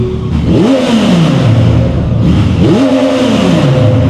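A car engine revs loudly twice, each roar climbing sharply then winding down, over a constant rumble.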